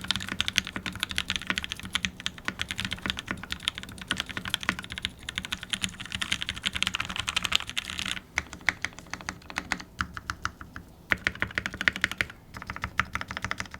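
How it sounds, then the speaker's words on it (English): Typing on an Iron 165 mechanical keyboard with a brass plate and Gateron Black Ink switches lubed with 205G0 makes rapid, dense, deep clacks with a few brief pauses, close and alone. "the keyboard itself is an Iron 165 with a brass plate. The switches are Gateron Black Inks lubed with 205G0"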